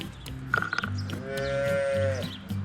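A cow lowing on a farm, one long drawn-out moo rising over steady low background noise, with brief clattering sounds just before it.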